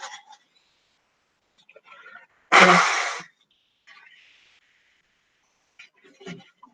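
A single loud, breathy sneeze bursts out close up, surrounded by quiet whispery breaths and faint mouth sounds.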